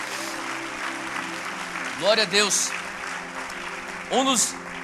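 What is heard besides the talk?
congregation applauding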